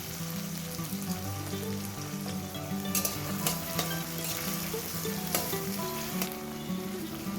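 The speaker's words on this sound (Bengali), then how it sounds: "এই পেঁয়াজগুলো ভাজবো।" Sliced onions with nigella seeds fry in hot oil in a wok, giving a steady, close, dense sizzle with occasional sharper crackles and stirring scrapes, no voices.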